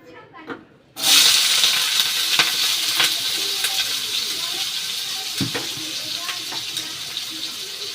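Food dropped into hot oil in a home kitchen, a sudden loud sizzle that bursts in and then holds as steady, bright frying hiss with occasional stirring clinks and pops close by.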